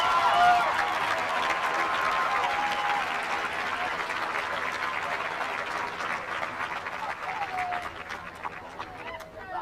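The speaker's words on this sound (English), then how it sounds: "Please give a warm round of congratulatory applause to Miss Buffy Chang." A graduation ceremony audience at Simi Valley High School in 1990 gives sustained, dense applause that stays loud throughout, easing slightly near the end, with scattered whoops and shouts over the clapping.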